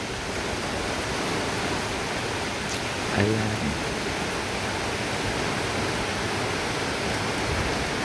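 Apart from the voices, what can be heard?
strong wind and rain during storm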